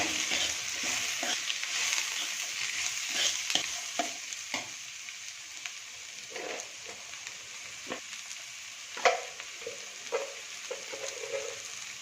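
Green peas are stirred into a raw jackfruit curry in a pan, giving a faint steady sizzle with irregular clinks and scrapes of the spoon, quiet and close, with no voices.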